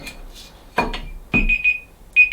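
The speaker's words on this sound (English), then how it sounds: "And now my alarm's going." An alarm clock goes off with a few short, high electronic beeps in quick bursts, mixed with a couple of brief knocks and handling clatter nearby in a quiet room.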